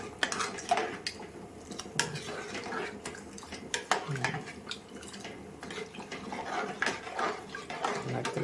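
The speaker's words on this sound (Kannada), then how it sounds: "ಸ್ವಲ್ಪ ಗರಂ ಮಸಾಲೆ ಹಾಕಿ ಇನ್ನೊಂದು ರೌಂಡು ತಿರುಗಿಸಿ" Tomato bath being stirred in a pot with a spoon after garam masala goes in, giving repeated close metallic scrapes and clinks of utensil against cookware, moderately quiet and alone.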